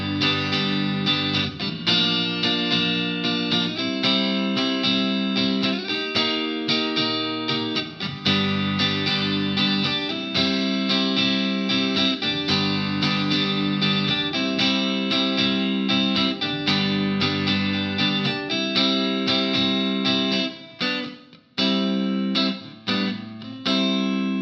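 Electric guitar, distorted and with chorus effect, plays a song's chord progression in a steady strummed rhythm, with the chords changing every few seconds, loud and alone, ending in choppier stabs.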